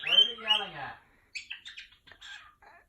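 A distressed pet bird squawks at an indoor wall, one long harsh cry followed by a string of sharp, faster chirps and squawks, close and fairly loud.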